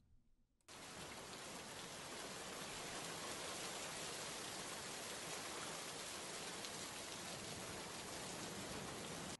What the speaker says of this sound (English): I got this rain sample.